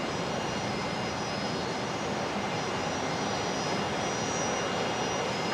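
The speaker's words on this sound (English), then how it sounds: "So I reckon the next departure is probably going to be Velocity 990, which is a 737-800 going to Sydney tonight." A Boeing 737-800 jet taxis at Brisbane Airport in the evening, giving a steady, dense engine roar with a faint high whine that holds at an even level throughout, with no voices.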